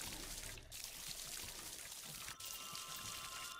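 Water pours steadily onto plants in the VR game Garden of the Sea, a continuous soft splashing stream with no talking.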